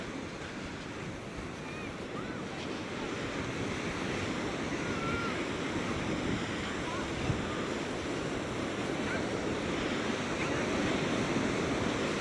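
Ocean waves roll onto St. Pete Beach in Florida's Pinellas County, a steady, dense wash of surf with wind buffeting the microphone and no clear breaks between swells.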